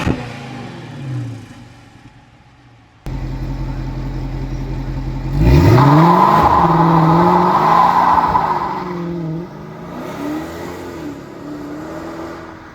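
A Dodge Challenger's engine idles with a steady rumble, then revs hard from about the middle of the clip before settling back to a lower, loud drone; no voices are heard.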